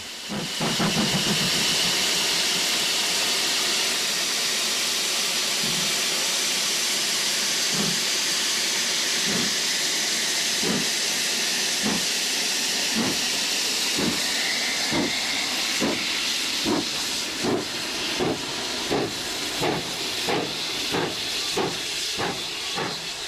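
Steady loud steam hiss from the GWR Hall-class locomotive Rood Ashton Hall, with a train of sharp rhythmic chuffs building and quickening as it gets under way, heard alone with no voices.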